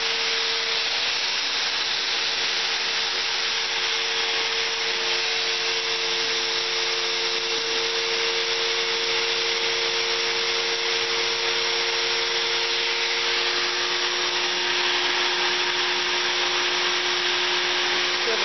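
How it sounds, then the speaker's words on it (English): A vacuum cleaner runs continuously and loudly, a steady droning whoosh with a faint whine and no pauses. "I've got a very obnoxious vacuum cleaner."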